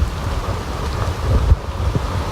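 Heavy rain pours steadily at a Disney theme park, a dense, close hiss with faint low rumbles mixed in, and no one talking.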